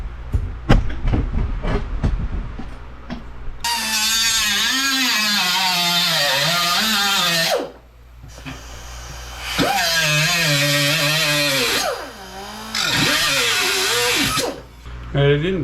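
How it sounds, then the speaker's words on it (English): Cutoff tool grinding through the metal cowl of a Mustang, a loud whirring whine in three long sustained passes with short gaps and pitch sagging under load, after a few sharp knocks at the start. "we'll just use the cutoff to get this last little bit off"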